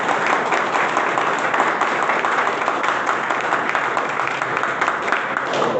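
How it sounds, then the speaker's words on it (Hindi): Students applauding in a classroom, steady dense clapping from a group that holds an even level throughout, close and filling the room. "अरे तालियां बजाना यार।"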